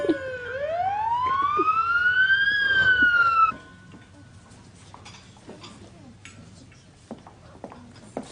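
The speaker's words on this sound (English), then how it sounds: "The ambulance is coming." An ambulance siren wails in a rising, sustained tone for about three and a half seconds, then cuts off, leaving faint background noise and scattered clicks.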